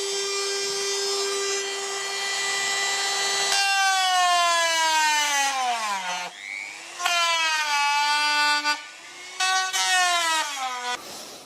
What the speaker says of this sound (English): we've just used a Dremel to cut it out